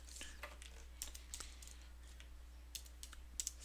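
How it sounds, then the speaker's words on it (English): Keystrokes on a computer keyboard as a code is typed, a quiet, irregular run of light clicks in a few short bursts over a low steady hum. "I would type that code in here."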